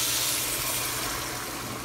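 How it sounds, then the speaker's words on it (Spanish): Boiling water poured from a container into a pot of rice, a steady close broadband hiss and rush of liquid that holds evenly throughout and fades only slightly near the end, with no talking. "lo que voy a hacer es echarle las 4 tazas de agua que ya tengo hirviendo aquí"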